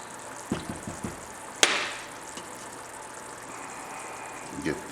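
A spoon stirs hot dog chili sauce with tomato paste in a pot, giving several quick knocking scrapes and one sharp clank, close and fairly faint over a low background hum.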